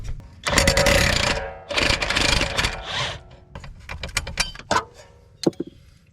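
An impact wrench working the last 19 mm bolt on a Nissan 240SX S13 rear hub and knuckle during a Z32 hub swap: two long loud rattling bursts, a shorter third, then scattered clanks and tool knocks nearby.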